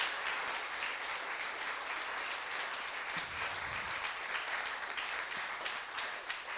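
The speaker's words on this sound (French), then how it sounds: "nous pouvons, je pense, encore une fois, toutes les applaudir" An audience at an evening event for exiled, engaged women claps for them in a sustained round. The dense, even applause fills the room and holds steady from start to finish, with no talking over it.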